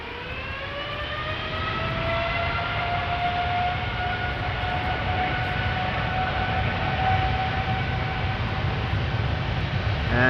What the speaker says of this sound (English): KLM Flight 745 lined up, ready to go. 7879 Dreamliner to Bogota,